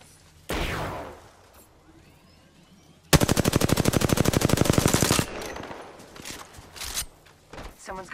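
Gunfire in the Apex Legends video game: a single loud shot, then a long rapid automatic burst of evenly spaced cracks lasting about two seconds, followed by scattered quieter clatter and movement sounds, with no speech.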